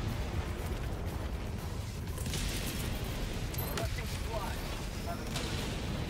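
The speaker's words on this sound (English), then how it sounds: "Wow, there's so many explosions." Rumbling blasts and crackling gunfire-like bursts from the video game Helldivers 2 roll continuously, dense and layered, with scattered sharper booms over a constant low roar.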